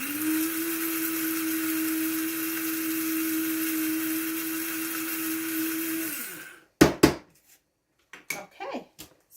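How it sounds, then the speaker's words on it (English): Blender grinding curry ingredients runs steady and loud with a strong motor whine for about six seconds, then cuts off, followed by a few sharp knocks and clatter as the jar is handled. "Okay, let's grind a little bit more."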